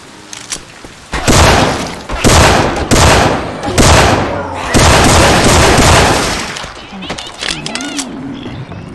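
Loud bursts of gunfire and booming weapon blasts from Syphon Filter sound effects in Left 4 Dead 2, dense overlapping shots with game voices in between.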